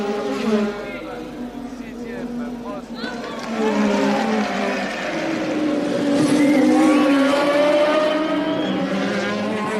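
1983 Formula One race cars scream past on the track, their high-revving engines rising and falling as they go by, with a commentator talking over the noise.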